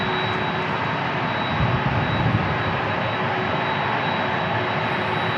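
A United Airlines A321neo jet takes off at San Diego International Airport, a loud, steady engine roar with a dense hiss that swells briefly midway, heard alone without voices.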